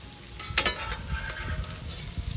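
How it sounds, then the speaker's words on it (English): Coleslaw with Thousand Island dressing sizzling on a flat-top griddle at a deli-style sandwich station, a steady crackling fry with a brief louder burst as it first hits the hot surface. "cook up a little bit of coleslaw in Thousand Island dressing"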